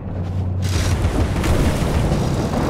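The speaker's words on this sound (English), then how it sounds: "Man, that thunder is loud." A deep, loud rumbling boom of thunder in the video game Alice: Madness Returns swells after a brief low hum and rolls on steadily with a broad crackling wash.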